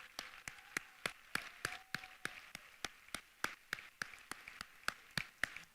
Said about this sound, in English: Please give a big round of applause to Ben Simon, Dana Priest, and